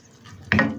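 Water hits a hot pan of stir-frying kangkong, a sudden short sizzling burst after a quiet moment.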